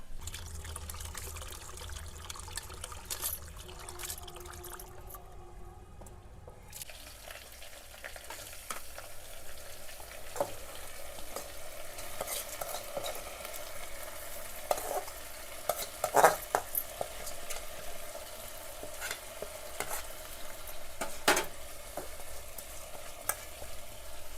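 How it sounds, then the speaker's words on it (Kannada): Lentils stirred in hot oil in a pan, a steady soft sizzle with scraping stirring strokes and occasional sharper clicks throughout, no talking. "ಬ್ಯಾಳೆ ಹಾಕಿದ ಮೇಲೆ ಎಣ್ಣೆ ಒಳಗೆ ಸ್ವಲ್ಪ ಬ್ಯಾಳೆ ಎಲ್ಲ ಈ ಥರ ತಿರುಗಿಸ್ಕೋಬೇಕ್ರಿ ಅವನ್ನ"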